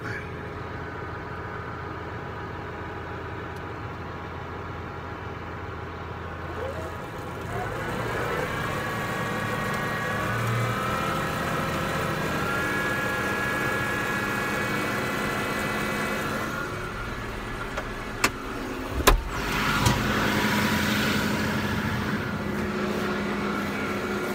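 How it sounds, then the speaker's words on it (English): An engine idles steadily at low RPM while manure is stockpiled, a continuous low drone with a faint whine that shifts in pitch partway through and a couple of brief knocks near the end. "When stockpiling, there's no need for high RPMs. I think I'm running at 500 right now."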